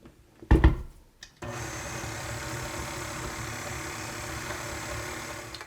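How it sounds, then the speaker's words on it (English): A few sharp knocks give way to an electric mixer starting up on low, beating butter and icing sugar in a steady, even whir that runs on without talk. "I'm going to put the mixer on to low, and I'm going to add the extracts to it while it's mixing"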